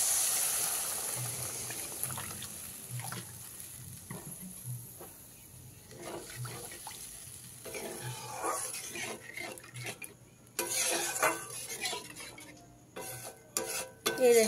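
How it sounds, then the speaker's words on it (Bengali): Water poured into a pan of oil-released tomato spice paste for a tilapia curry, splashing and hissing in bursts amid clinks and stirring of a utensil against the pan. "এই পর্যায়ে এর মধ্যে আমি পরিমাণ মতন জল দিয়ে দেবো।"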